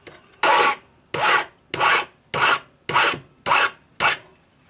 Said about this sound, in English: So file the end flat.